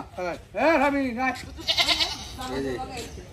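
A castrated male goat bought for a celebration bleats in a few wavering calls close by, with people talking around it.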